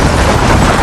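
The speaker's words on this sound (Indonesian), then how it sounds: "tiba-tiba salah satu mobil pengawal meledak" An escort car explodes on a bridge in an action film, a loud dense blast of broadband roar that fills the whole short moment without letting up.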